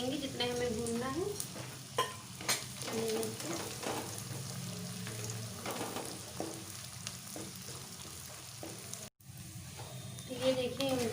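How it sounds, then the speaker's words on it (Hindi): Edible gum (gond) roasts in a pan, crackling and hissing as it is stirred, with bursts of scraping and a brief break near the end. "तो इसी तरह हम गोंद को भून लेंगे जितने हमें भूनना है।"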